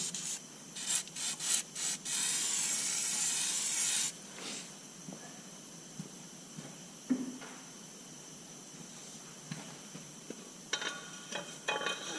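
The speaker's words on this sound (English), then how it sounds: "Give it a bit of WD-40." WD-40 spits from the can in a few short bursts and then one sustained hiss during work on a Detroit 353T engine's liners and gasket surfaces, followed by faint rubbing and scattered small knocks.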